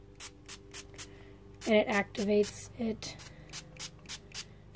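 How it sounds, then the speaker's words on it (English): Water spritzed from a spray bottle onto a magic eraser, several quick hissing bursts in a row, followed by a short stretch of talking with rubbing sounds. "basically what you do is you just spray it with water"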